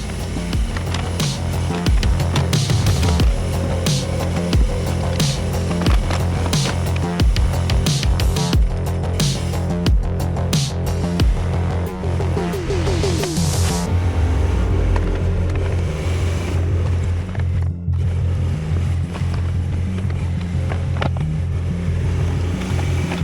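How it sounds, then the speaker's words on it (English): Heavy equipment stripping topsoil off a mountain hillside, a loud continuous diesel engine rumble with grinding, scraping and clanking of the blade over soil and rock, heard close throughout with no talk. "here you'll see me stripping the topsoil off the hillside the best I can"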